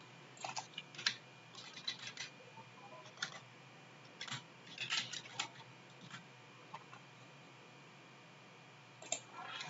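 Typing on a computer keyboard, with irregular bursts of light clicking keystrokes, close but faint over a quiet background hiss, and no talking.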